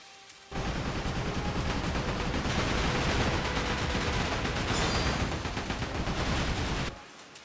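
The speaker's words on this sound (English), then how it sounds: "Holding middle mouse while controlling the ship will fire machine guns dead ahead." Ship-mounted machine guns fire straight ahead in Like a Dragon: Pirate Yakuza, a dense, continuous rattling burst lasting several seconds, loud and steady, then cutting off abruptly.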